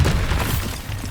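The Bombarda spell explodes in Hogwarts Legacy as a loud, close, booming blast with a crackling, shattering edge, filling the short moment with heavy low rumble that trails off slightly.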